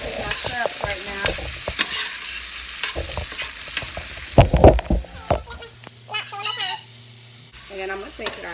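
Shrimp frying in butter in a pan, a steady sizzle broken by scraping and stirring clatter, with bursts of louder crackle midway and a person talking intermittently nearby.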